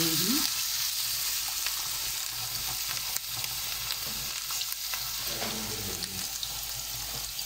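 Minced beef kebab patties frying on a tawa griddle, a dense, steady hissing sizzle that stays fairly even throughout, close and moderately loud, with no speech.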